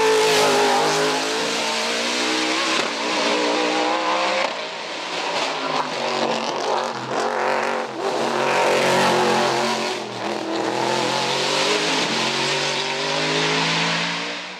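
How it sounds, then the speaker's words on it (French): A BMW M3 E92 race car in the production class at the Turckheim hill climb accelerates hard through the gears, its engine rising and dropping in pitch between shifts, loud and close throughout. "Poinsignon, délesté de la pression du titre, complète le podium de Turkheim sur sa BMW M3 E92"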